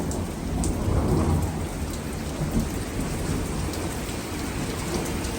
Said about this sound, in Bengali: আপনারা দেখতে পাচ্ছেন যে অনেক বৃষ্টি হচ্ছে এবং বজ্রপাতের আওয়াজ শোনা যাচ্ছে।